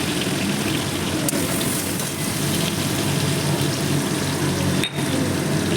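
Pointed gourd frying in oil in a pan, a steady close sizzle with a faint low hum underneath and one brief clatter near the end.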